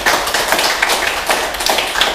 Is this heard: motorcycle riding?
no